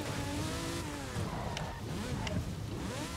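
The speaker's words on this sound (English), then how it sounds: "This is what you're gonna do with a Lamborghini Diablo." A Lamborghini Diablo driven in the video game Forza Horizon 5, its engine loud and close, with the pitch sweeping up and down as it revs and shifts and road noise roaring steadily underneath.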